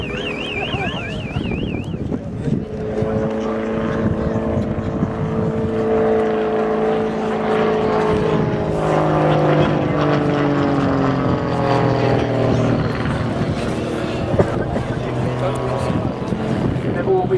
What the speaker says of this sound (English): Engine constant speed drop, you can hear it cycling on its governor.